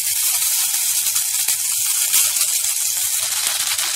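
Buttered bread frying in a pan gives off a steady, close hiss and sizzle that holds without a break from start to finish.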